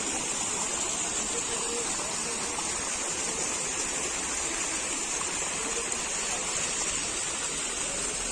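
Water pouring down Kempty Falls waterfall in Mussoorie, a loud, unbroken roaring rush that stays constant throughout.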